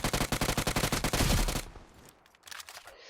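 Rapid automatic gunfire from the BGMI battle royale game rattles in a fast, even burst for over a second, then stops, followed by a couple of fainter shots and quieter game sounds.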